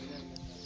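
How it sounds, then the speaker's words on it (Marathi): A hen clucks once, faint and brief, at a rural farm house in tribal countryside, against a steady low outdoor background. "ही कोंबडी पा"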